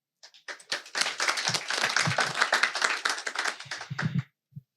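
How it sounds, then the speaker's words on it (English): An audience at an African business summit applauds, a dense burst of many hands clapping close and loud for several seconds before thinning to a few scattered claps. "That's worth another applause."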